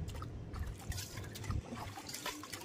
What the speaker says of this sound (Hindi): हम इसमें ये बाल्टी का पानी से हम कटोरा में डालने वाले हैं।